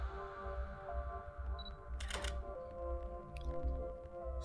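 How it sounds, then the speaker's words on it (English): A camera shutter fires a single test shot in a photo studio, a sharp brief click burst standing out over a steady low room hum and a faint background whine. "Right, we take a test shot."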